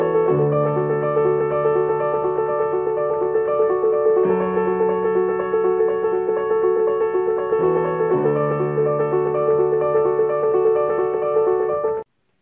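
Solo piano plays a slow, steady pattern from a piece, with sustained harmonies shifting every few seconds, held bass notes underneath, and close, even loudness with no talking.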